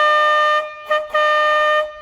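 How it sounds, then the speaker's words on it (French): A fishing boat's horn sounds before departure: a loud, steady, tonal blast, a brief dip, a short second toot, then a longer third blast that fades out. "Un petit coup de klaxon avant de partir."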